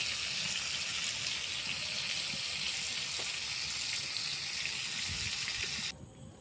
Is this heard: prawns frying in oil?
yes